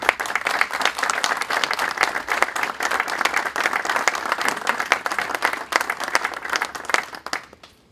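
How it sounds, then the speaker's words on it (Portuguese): Audience applause at a political campaign speech in Guimarães, a dense sustained clapping from a crowd lasting several seconds before fading out at the end. "Um aplauso para ele."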